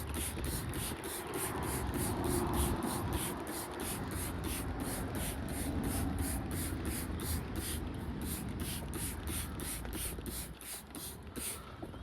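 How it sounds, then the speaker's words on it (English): A continuous hissing spray is applied around a tire while checking it for an air leak, steady and close, with a regular pulsing pattern and light rubbing noises underneath. "I'm gonna still spray around the tire, just to be, just to be safe."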